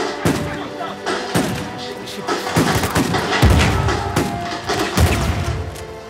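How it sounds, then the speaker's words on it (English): Repeated booming blasts and bursts of gunfire-like thuds sound through a busy Uncharted 4 game soundscape, several heavy impacts spread over a few seconds. "Explosions."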